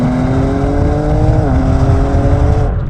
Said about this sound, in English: It seems consistent with what you'd expect the exhaust is making